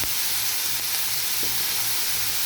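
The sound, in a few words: water added to frying onions, sizzling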